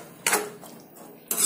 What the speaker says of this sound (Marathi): आता आपण याला मिक्स करून घेऊ व्यवस्थित